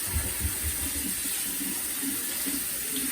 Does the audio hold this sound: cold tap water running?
yes